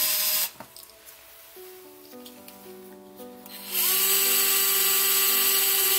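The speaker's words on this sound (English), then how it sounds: "I will just put one pilot hole in there" A power drill whirs steadily, its pitch shifting as it bites into a plastic model part drilling a pilot hole, then revs up louder and higher near the end.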